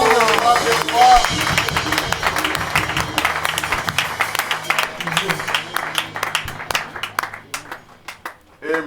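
A church congregation at a Sunday service and wedding blessing breaks into a burst of clapping that gradually thins into scattered claps, with a voice speaking over it.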